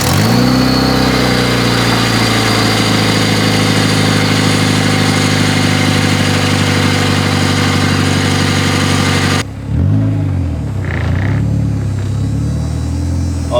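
A Honda D16Z6 engine, freshly fitted with a new timing belt and adjusted valve lash, runs loud and close with a steady idle and some revving, then drops to a quieter, muffled running sound near the end.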